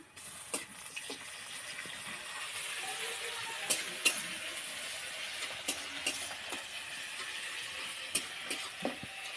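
Salt, chopped onion and ginger-garlic paste sizzle steadily in a hot pan, a constant bright hiss broken by occasional clinks and stirring scrapes.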